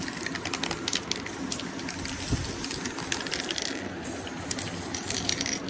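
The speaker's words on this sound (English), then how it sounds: "So I'm going to spray it all the way around" A continuous hissing spray from a spray can coating a homemade wind chime, with faint rattling, runs steadily from start to finish, close and fairly quiet, with no talking.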